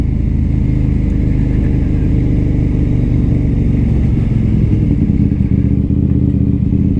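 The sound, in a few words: KTM Duke 890R motorcycle being ridden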